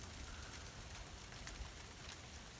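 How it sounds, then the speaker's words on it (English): Freezing rain and sleet fall on a cold Southern Illinois morning, a faint, steady patter and hiss with occasional slightly sharper ticks, continuous and without voices. "It's still icing or snowing or whatever you want to call it."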